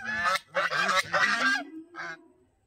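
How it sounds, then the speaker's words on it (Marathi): A few loud, nasal duck quacks sound close by in quick succession, then a shorter final call before falling quiet. "मंद बदक."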